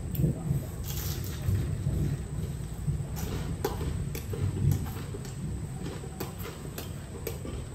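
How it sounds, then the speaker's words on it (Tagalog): Heavy rain with thunder pours down steadily in a rural Philippine setting, a dense, even hiss with a low rumbling bed and scattered sharper crackles throughout. "Baka malakas ito ulan na ito."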